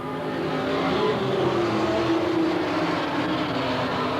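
Race cars at Willamette Speedway in 1989 roar off at the start of a heat race, a massed engine drone that swells and holds at a moderate distance.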